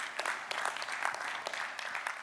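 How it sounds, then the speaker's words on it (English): An audience at a motivational speech gives a short round of applause, fairly faint and steady, with no voices over it. "round of applause for that"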